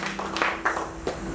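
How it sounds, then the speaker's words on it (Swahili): A church congregation claps for Jesus in a brief burst of scattered applause, a few distinct claps standing out over a steady background murmur. "Tumpigie Yesu makofi."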